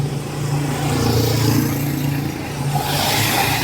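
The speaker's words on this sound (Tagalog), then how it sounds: "Grabe yung traffic dito sa Sukat." Heavy road traffic in Sucat: a steady close drone of car and truck engines with rising revs and passing vehicles, continuous throughout with no talk.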